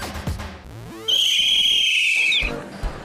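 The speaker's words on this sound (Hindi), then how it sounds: "सीटी बजाना क्या सिर्फ लड़के ही जानते हैं?" A whistle is blown in one long, shrill, steady blast lasting over a second, loud and close, with background noise around it.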